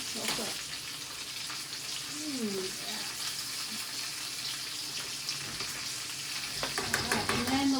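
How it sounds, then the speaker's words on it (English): Food sizzles and fries in a pan while a utensil stirs it, scraping and clattering in bursts over a steady hiss, with faint voices underneath. "I might actually stir it real quick"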